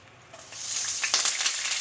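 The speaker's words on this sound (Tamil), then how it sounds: "எண்ணெய் காஞ்ச பிறகு சோம்பு சேர்த்துக்கிறோம்." Fennel seeds dropped into hot oil, a sizzle that swells quickly and stays bright and close for a moment.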